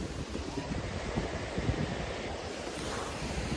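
Waves at Uran beach wash in a continuous, fairly faint surf rush mixed with wind buffeting the microphone, with no distinct individual breakers standing out.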